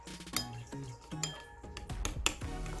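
Melted soap base, still partly chunky, being stirred in a bowl, giving a run of close clinks and scrapes of utensil against the bowl with a few sharper taps.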